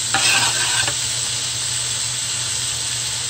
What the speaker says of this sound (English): We're gonna add sliced garlic and we're gonna fry with it.